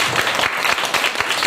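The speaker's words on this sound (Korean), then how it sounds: "큰 박수." A congregation at a Sunday church worship service applauds in a dense, steady burst of clapping close by, with a faint voice underneath.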